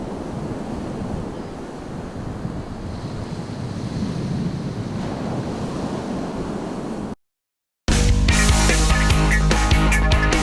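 Surf rolling onto a beach with steady wind buffeting the microphone, a continuous broadband wash for about seven seconds, then a brief silence before unrelated music cuts in.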